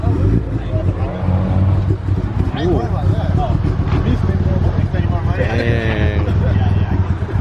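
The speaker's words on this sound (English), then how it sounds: "just started up his Evo 8. I don't know if you guys can hear the cams on camera" A Mitsubishi Lancer Evo 8 running at a car shop, with a steady, loud low engine rumble at idle while people talk over it.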